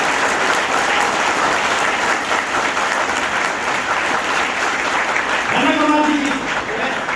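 An audience at a network marketing talk applauds in a loud, continuous wash of clapping close by, and a voice begins speaking over the last couple of seconds.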